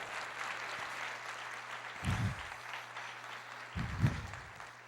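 A church congregation applauds during a Portuguese-language sermon, a faint, distant wash of clapping with a couple of low thumps under it and a steady hum throughout.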